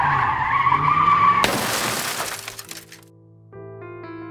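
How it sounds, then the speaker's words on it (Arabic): A car skids with a long screeching tire squeal, then slams into something with a loud crash and shattering glass, followed by scattered debris settling and a fading ring; no voices. "وفي يوم وهو رايح الشغل عربية خبطته"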